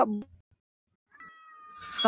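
A cat meows in a drawn-out, fairly quiet call after a short burst of nearby human voice, with more sound building at the end.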